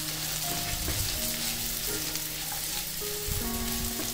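Fried rice with peas and sugar frying in a pan, a dense, loud continuous sizzle with scraping stir strokes and a few light tonal clinks, close up.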